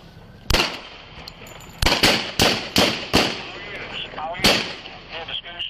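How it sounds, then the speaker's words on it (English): Rifle shots ring out at a house during a police body-camera encounter, about seven sharp, loud cracks, some fired in quick pairs and others spaced apart, with people talking around them. "Shots fired! He's got a rifle!"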